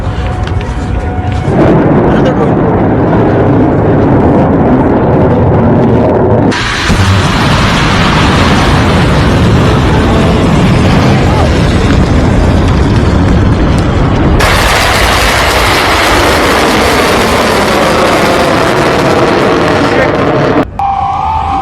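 Heavy blasts from a US bunker-busting bomb strike, ground-penetrating bombs dropped by a B-2 bomber, loud booming rumbles in long sustained bursts with abrupt cuts between them and a voice talking over part of it.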